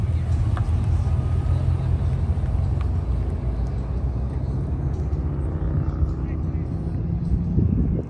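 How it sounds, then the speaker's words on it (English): Several cars roll off a highway toward a car show at Remington Park in Oklahoma City, a steady low engine and road rumble under close, continuous chatter, swelling slightly near the end. "Sound like a crowd of cars coming off the highway."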